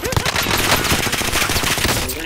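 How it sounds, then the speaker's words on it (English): Loud bursts of automatic gunfire fill a shooter video game, dense rapid shots hammering close with no pause over about two seconds. "Niggas is shooting from everywhere."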